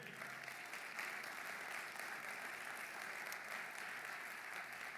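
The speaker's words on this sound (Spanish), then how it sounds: "Dale un aplauso fuerte." Steady applause from a church congregation during a Spanish-language Sunday morning service, filling the room evenly for the whole stretch with no voices on top.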